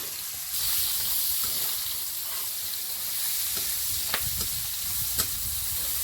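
Chopped garlic, onion and chilli frying in a pan, a steady close sizzle with occasional light clicks of a utensil against the pan, no talk.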